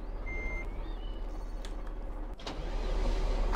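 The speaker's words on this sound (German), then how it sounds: "Das TLF-1 ist soeben am Einsatzort eingetroffen." A fire engine (TLF tanker) arrives at an emergency scene in the Farming Simulator 15 video game, with its steady engine hum under a high electronic beeping tone and a brief clunk near the end.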